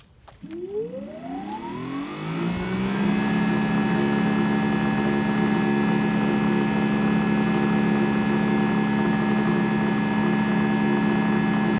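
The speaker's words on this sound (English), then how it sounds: "it does idle even when you're not pulling the trigger" A Greenworks Pro 3000 psi pressure washer spins up. Its tone climbs over the first few seconds, then it settles into a loud, steady idle with a strong whine.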